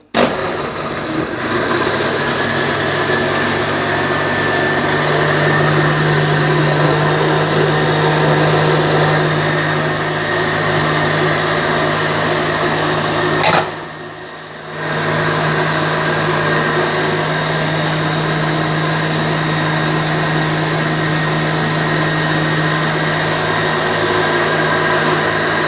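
A blender blending mango with about one and a half glasses of water whirs loud and steady throughout, with a brief dip in the motor about midway before it resumes.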